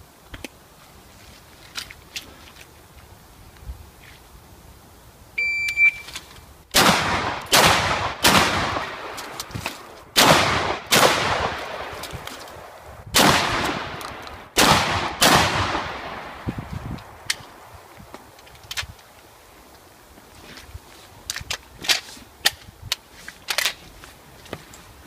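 Gunshots in a practical shooting drill for an IPSC 3-gun training session, opening with a short electronic start beep, then a rapid string of loud sharp cracks in irregular bursts, followed by quieter scattered clicks and clatter.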